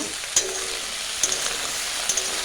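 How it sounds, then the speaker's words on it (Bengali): Curry with turmeric and salt sizzles steadily in hot oil in a wok, with a few sharp scraping clicks from stirring at intervals. "এই যে দেখো তরকারিটা আমি ভালোভাবে নাড়ে চাড়ে কষে নিচ্ছি।"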